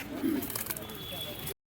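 A pair of Jack pigeons at the Birnagar market gives a brief low coo early on, faint against background market noise and voices, before a sudden dropout.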